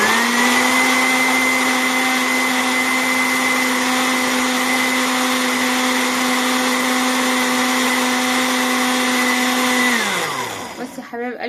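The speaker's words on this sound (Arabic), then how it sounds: "عشان ما تسمعوش حس الخلاط ويعني ويعمل لكم ازعاج" An electric kitchen blender runs loud and steady, a constant high-pitched motor whine with buzzing harmonics for about ten seconds before winding down and stopping, while making homemade crepe batter.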